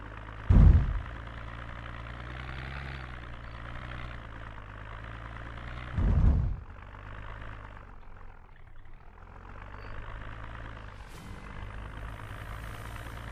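Car engine idling in the video game Project Zomboid, a steady low rumble running throughout, with two brief louder thumps near the start and around six seconds.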